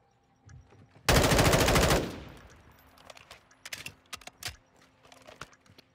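Sustained burst of automatic M4 rifle fire in Modern Warfare 2 search-and-destroy play, a loud rapid volley lasting about a second, followed by scattered quieter shots and clicks.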